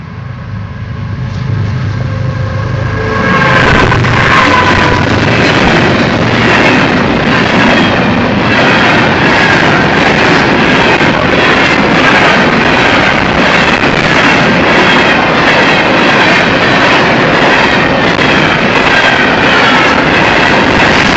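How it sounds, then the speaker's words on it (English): Freight train approaching fast and passing close at a Florida railfan spot, a loud steady roar with rhythmic wheel clatter building over the first few seconds and holding throughout. "Here we go, train coming."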